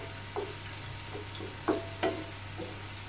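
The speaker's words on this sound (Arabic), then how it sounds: "الرز البنات غندوزو في شويه ديال الزيت في المقله" Rice frying in a little oil in a pan for fish paella, with a soft steady sizzle and a few brief scraping stirs spaced about half a second apart, no voices.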